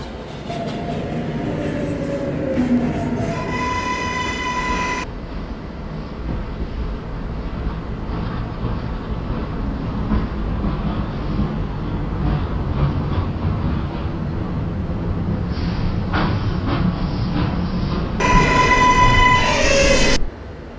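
A New York subway 7 local train rumbles and clatters loudly as it approaches the station, with electronic chime tones at the start and end.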